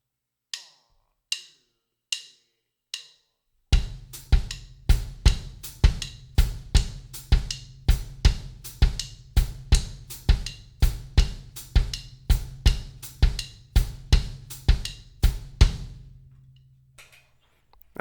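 Latin drum sticking pattern played over a steady low foot ostinato: a few sparse stick clicks first, then a dense, even stream of sharp snare-like strokes riding a repeating kick pulse, close and clear with no talking.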